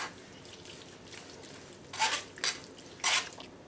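Biryani gravy drips and splashes through a strainer in a kitchen, a few soft liquid spatters and trickles heard close up over a low background hiss, with no talking.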